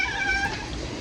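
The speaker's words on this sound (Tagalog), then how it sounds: "Yun yung pusa na yan." Domestic cat giving a single short meow at close range, clear and alone.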